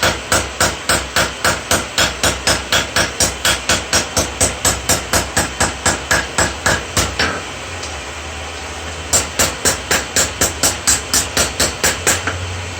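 Rapid, regular metallic hammer blows ring out on a steel seax blade being forged, about three strikes per second, pausing briefly before the steady pounding resumes.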